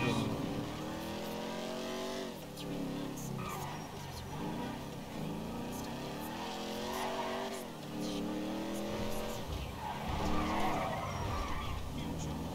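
A car in GTA V accelerates and skids, its engine droning continuously with repeated rising and falling pitch sweeps and tire squeal throughout, loud and close.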